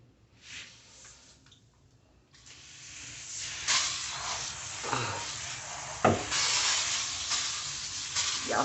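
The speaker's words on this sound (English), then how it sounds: "Y'all see that foaming action?" A foaming cleaner sprayed on surfaces hisses and fizzes, bubbling up over several seconds with a few sharper bursts, close by and fairly quiet, no talking.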